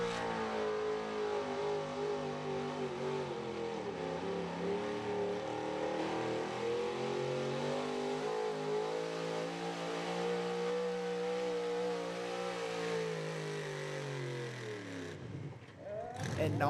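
A 1994 Ford pulling truck named Mutiny roars under heavy load as it drags a sled down a truck-and-tractor-pull track, its engine droning loud and sustained, pitch climbing then dropping sharply near the end before a final rev, with an announcer talking over it.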